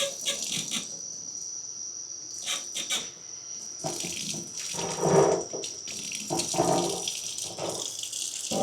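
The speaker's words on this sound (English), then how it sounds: "You're going to want warm water." Warm tap water runs continuously into a sink while a CPAP part is rinsed clean, a steady splashing stream broken by occasional louder gushes and clatter as items move under the flow.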